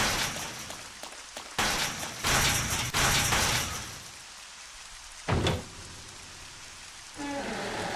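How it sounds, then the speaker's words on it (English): Steady heavy rain hisses across everything in a survival horror game, with bursts of louder downpour and a sharp thud partway through, and no talking. "Love the rain sounds in this too."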